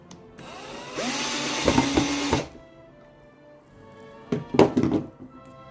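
During a minivan camper conversion, a power drill drives screws underneath a build, with two short bursts of whirring and thunks, the first longer, separated by a quiet gap.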